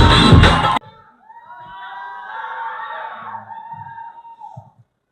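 Crowd at a stage event cheers and shouts to welcome VJ Siddhu, with loud, dense noise at first that cuts off abruptly and gives way to softer, distant whoops and screams.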